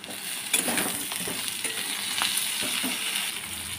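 Taro pieces coated in turmeric frying in a pan with oil, a steady close crackling sizzle with a few sharp stirring clinks, no voices.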